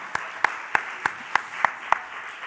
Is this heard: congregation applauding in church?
yes